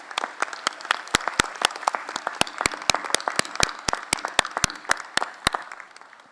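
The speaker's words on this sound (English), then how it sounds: "let's give them a round of applause as a sign of your appreciation" Applause from a college commencement crowd, with dense clapping throughout and sharp individual claps standing out on top, steady for several seconds.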